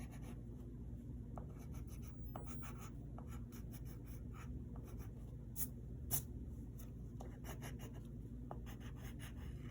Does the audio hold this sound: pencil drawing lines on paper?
yes